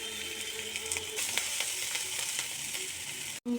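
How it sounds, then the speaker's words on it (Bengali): Onion and garlic frying in a pan for chilli fish, a steady close sizzle with faint stirring scrapes, no voices, cut off by a brief dropout near the end. "পেঁয়াজ ভাজা হয়ে গেছে"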